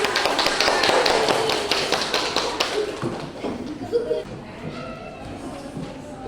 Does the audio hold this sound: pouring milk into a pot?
no